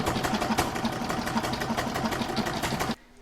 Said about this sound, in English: pop it all in my machine and stitch round number 7